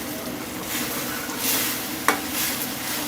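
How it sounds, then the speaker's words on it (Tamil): Mango pulp frying in ghee for halwa, a close, continuous soft sizzle with faint stirring scrapes and a sharp clink near the end, no voices. "நல்லா நெய்யில் வதங்கி வதங்கி மேங்கோ பல்ப் நல்லா சுருங்கி வருது"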